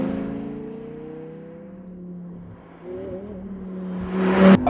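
An Audi R8 V10 with 525 horsepower pulls hard at full revs through the gears, its engine tone climbing steadily, then a gear change, then another rising whine that swells loudly at the end.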